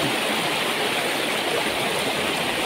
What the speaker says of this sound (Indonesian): Oke, dan ini sungainya sahabat.